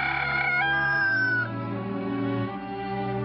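A Japanese ornamental chicken crows in one long, drawn-out call, its wavering tone sliding in pitch and holding for several seconds, fairly close and alone.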